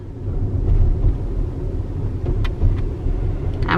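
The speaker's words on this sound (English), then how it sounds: "So here's the Proterra electric bus." Proterra electric bus rolling past on a rain-wet road, a low steady rumble with tire hiss, heard from inside a nearby car.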